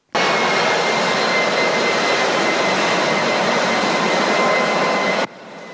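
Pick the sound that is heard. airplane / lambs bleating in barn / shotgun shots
airplane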